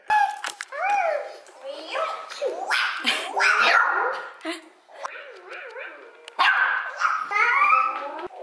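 A small dog barks at a toy tiger, giving repeated high yips, whimpers and bow-wow barks in irregular bursts, close and fairly loud, with a voice mixed in.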